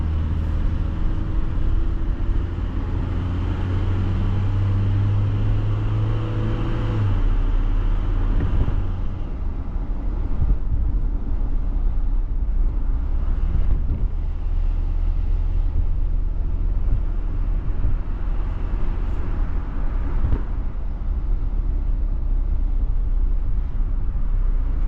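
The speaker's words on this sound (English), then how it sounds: "So, driving around, accelerating." A Nissan Be-1 small car drives and accelerates, its engine droning loud and close from inside the cabin with rising and falling revs and steady road noise, no talking.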